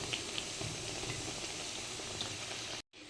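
Chana dal vadas fry in oil over a low flame, giving a steady, close bubbling sizzle that runs evenly before a brief drop to silence near the end.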